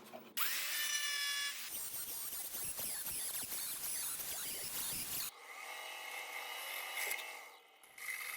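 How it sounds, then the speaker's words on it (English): A power drill bores a hole for a cargo bike steering shaft, loud whining in bursts broken by short pauses, the pitch shifting as the bit cuts through. "here I'm drilling that hole for the steering shaft to go through"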